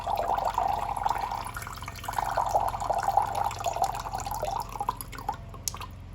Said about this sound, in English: you pull it out, And you see how that water just comes right out?